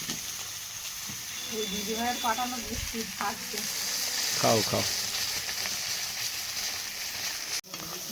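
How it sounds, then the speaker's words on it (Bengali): Fish frying in a pan in a home kitchen, with a steady hissing sizzle throughout and people talking over it. "এদিকে মাছ ভাজা চলছে"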